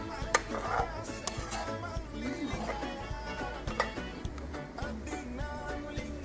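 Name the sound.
sautéing pineapple chunks in a pan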